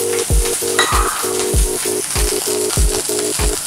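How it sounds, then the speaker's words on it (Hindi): Chopped capsicum sizzles in butter in a hot pan while a spoon stirs and scrapes the pan in a steady, close rhythm. A constant frying hiss runs underneath. "एक चम्मच बटर डाल लेंगे, अब इसमें आधा कटा हुआ शिमला मिर्च डाल लेंगे"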